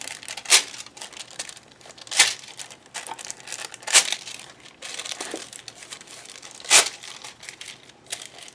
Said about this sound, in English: Bring in my foil and just add a little bit of gold bling around.